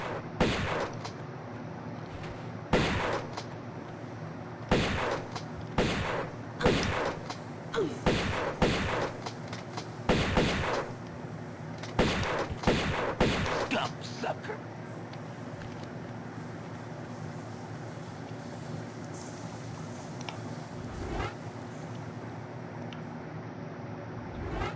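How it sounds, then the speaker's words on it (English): Repeated shotgun blasts in the Tomb Raider video game fire in irregular bursts of sharp, loud reports while an enemy is killed, with quieter game ambience between shots. "I want to kill this guy with the shotgun"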